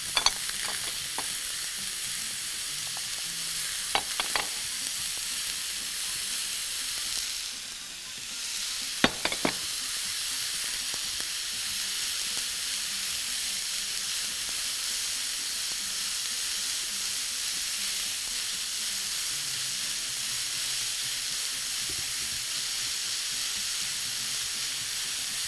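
Onions and carrots sauté together in a pan with a steady, close sizzle and hiss throughout, broken by a few sharp clacks of stirring early on.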